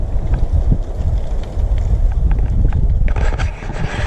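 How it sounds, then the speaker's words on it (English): Strong wind roars and buffets the microphone continuously, a loud low rumble with gusts rising and falling throughout. "Oh my god, it's so windy."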